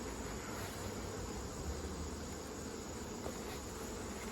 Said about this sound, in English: There's a ton of bees and they are very angry.